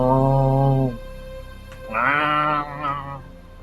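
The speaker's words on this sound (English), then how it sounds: "You'd imagine it's some sort of livestock, sheep, cows." A livestock animal such as a sheep lets out a loud, close, wavering bleat, followed by a second, higher-pitched bleat after a short pause.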